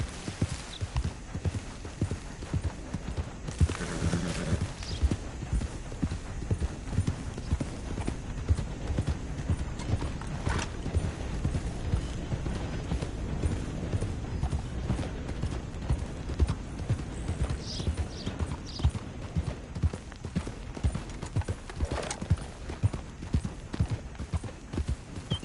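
A horse gallops steadily in Red Dead Redemption 2, rapid hoofbeats drumming close and loud with brief snorts and a faint whinny, running without pause for the whole stretch.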